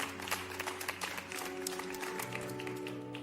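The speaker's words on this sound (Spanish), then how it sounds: "Denle un fuerte aplauso a Dios" A church congregation claps and cheers in a steady, fairly quiet wash of applause with a few sharper claps, heard from a distance in a large hall.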